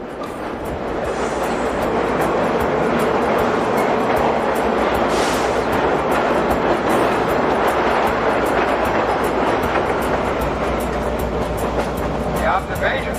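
Grand Canyon Railway steam train rolling toward a tunnel, a steady loud rumble and clatter of the cars heard from on board, with brief hissing bursts over a continuous roar.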